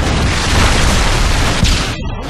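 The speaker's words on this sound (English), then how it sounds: "Friendly predator missile inbound." A heavy, continuous rumbling blast from a predator missile strike in Modern Warfare 2 roars loud and close for about two seconds, then cuts away abruptly.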